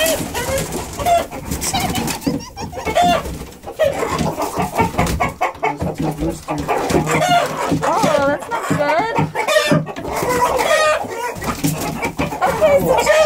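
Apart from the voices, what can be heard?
rooster crowing and clucking, trying to mate with another rooster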